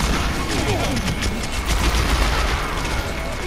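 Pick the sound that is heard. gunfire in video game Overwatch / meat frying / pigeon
gunfire in video game Overwatch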